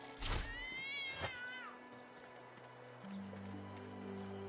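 A cat meows in Divinity: Original Sin 2, two short wavering cries close together near the start, followed by a steady game hum and low background tones.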